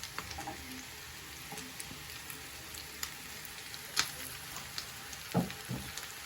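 Chicken pieces, mushrooms and onion sizzle quietly in a frying pan, with a steady soft crackle and a few stirring clatters, heard alone.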